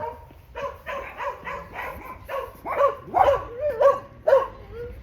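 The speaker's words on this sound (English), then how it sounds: "These are my friends' dogs too." Several dogs bark in a quick series of sharp, close barks and yips, some overlapping, growing louder toward the end with no speech.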